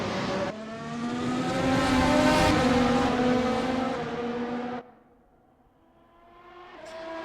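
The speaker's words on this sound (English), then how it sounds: "See the 10th place car of Shorter now coming into the pits." A Formula 1 car in a racing video game drones steadily at high engine pitch as it runs into the pits, then cuts off abruptly and leaves a low idle hum.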